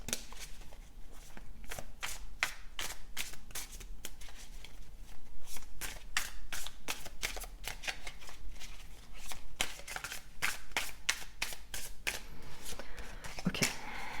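A deck of tarot cards is shuffled close by, with repeated crisp riffling snaps and soft slaps in a steady, uneven rhythm that lasts throughout.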